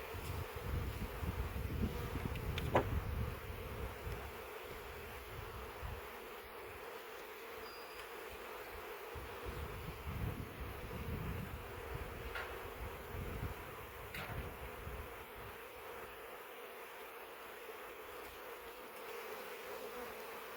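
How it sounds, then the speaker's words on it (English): A steady, dense buzzing of many honey bees around a hive package fills the whole stretch, with faint wind rumble underneath and no voices. "So there's still a lot of bees on this package here."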